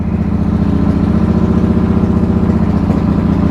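Motorcycle fitted with straight pipes idling, a loud, steady, close-up low rumble with an even rapid pulse throughout and no speech.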